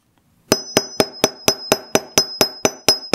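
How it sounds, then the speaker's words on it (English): Hammer blows on a steel block flatten the end of a wire ring, about a dozen sharp metallic strikes in a steady, evenly spaced rhythm, close and loud with a bright ringing tail. "we're going to take our steel block and we're going to do some hammering here"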